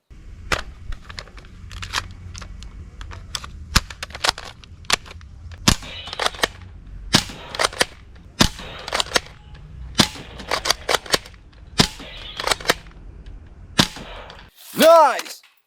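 Toy gel blaster SMG firing gel balls: sharp, snappy shots in quick single pops and short irregular bursts, close and fairly loud, with a brief whirring sweep at the very end.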